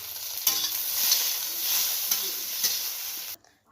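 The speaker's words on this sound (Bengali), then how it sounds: "ঢেঁড়সটা যে ভাজছি তার উপর দিয়ে দেখো ছানাটাও শুধু একটু এর উপরে ভেজে নেব আমি।" Okra and chhena fry in hot oil in a kadai, a steady bright sizzle with a few stirring scrapes, stopping abruptly into near silence at the end.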